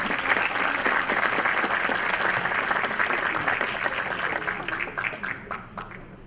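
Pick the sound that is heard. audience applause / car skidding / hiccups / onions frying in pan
audience applause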